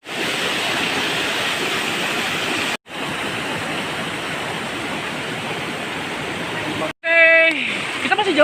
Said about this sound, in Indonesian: Kita sudah sampai sungai.